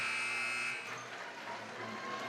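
At halftime of a high school boys basketball game between South Putnam and Eminence, a loud, flat electronic buzzer sounds for under a second. It cuts off into a continuous wash of crowd noise in the gym.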